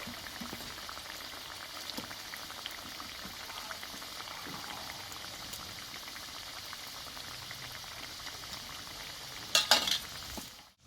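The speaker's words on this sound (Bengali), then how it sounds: "এবার টিফিনগুলো সব ভেজে নেব" Five tiffin snacks fry together in hot oil in a pan, giving a steady, moderate bubbling crackle, with a brief louder clatter near the end.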